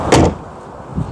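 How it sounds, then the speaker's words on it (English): A Mk4.5 Ford Fiesta car door slams shut once with a solid, close thud, followed by a short fading tail. "should we have a listen to the door shut sound?"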